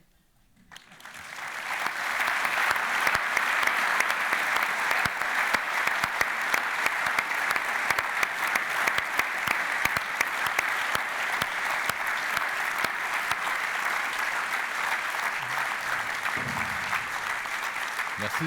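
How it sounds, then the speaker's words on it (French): After a moment of quiet, an audience breaks into loud, sustained applause that continues steadily to the end. "Je vous propose de vivement les applaudir."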